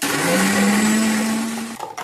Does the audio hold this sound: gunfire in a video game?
no